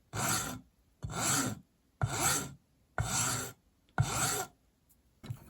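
A hand file rasping a bevel onto the edge of a metal beater head, six steady even strokes about a second apart, close and clear with no talk.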